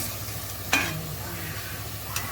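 Ingredients being sautéed (gisa) in a pan for papaitan, a soft continuous sizzle with a sharp clatter of utensil against pan, then another lighter scrape a moment later.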